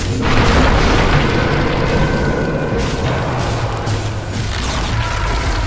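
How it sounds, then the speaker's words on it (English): A tower collapsing in Dota 2 gives a loud, sustained booming rumble that holds steady for several seconds, like a heavy crash and destruction in the game. "Radiant's bottom tower has fallen."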